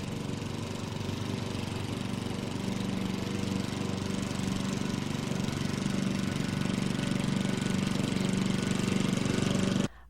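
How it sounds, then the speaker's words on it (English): A gas lawnmower engine drones continuously at a steady pitch from about 100 feet away, a loud even rattling hum that holds for ten seconds and then cuts off abruptly. "A gas lawnmower 31 meters or 100 feet away will create a sound level of approximately 75 decibels."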